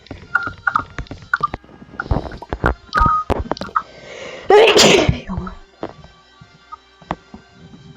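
One sharp, loud sneeze bursts out midway, surrounded by scattered brief clicks and small noises in an otherwise quiet indoor setting.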